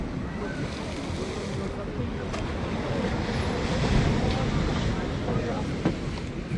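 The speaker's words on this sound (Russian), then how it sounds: "Что-то море волнуется." Rough sea with storm waves along the Yalta embankment in Crimea at evening, a loud continuous surf roar with wind buffeting the microphone.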